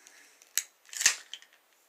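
An MTech USA MT-A1143 knife slices through paper in two quick, crisp cuts, the second longer and louder, close and alone.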